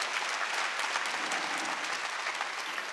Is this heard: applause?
yes